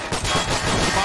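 Gunfire in a WW2 video game, a short, loud, continuous burst of rapid shots with dense crackling texture.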